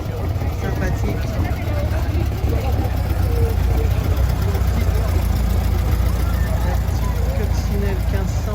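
A Volkswagen Beetle cabriolet with a 1600 engine runs steadily at idle during a classic car gathering, its even air-cooled chatter constant throughout while people talk nearby.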